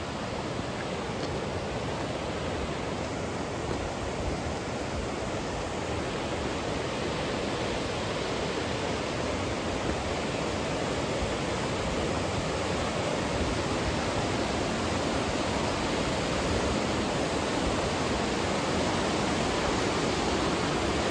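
Powerful river water rushes through the Tolmin Gorge in Slovenia, a dense, steady roar filling the space without a break from start to finish.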